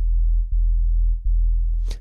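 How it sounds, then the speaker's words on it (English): A sine-wave 808 bass patch with slight pulse width modulation on a Roland Zenology Pro synth plays a loud, deep sustained sub-bass tone retriggered three times, ending with a brief noisy burst. "I'm going to stick with the sine wave here and a little bit of pulse width modulation."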